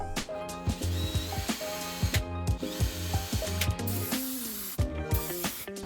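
Repeated ratchet clicks and metallic tool sounds while fitting an 18Z big brake caliper onto an Acura TL, with short bursts of ratcheting in a steady rhythm, close and fairly loud, with no talking.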